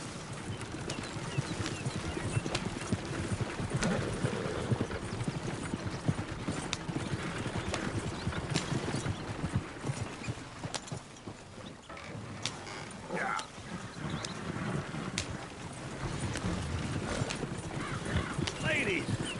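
Horse hooves clip-clop steadily in Red Dead Redemption 2 as horses are ridden through trees, a continuous rhythmic plodding under ambient outdoor noise and occasional game speech.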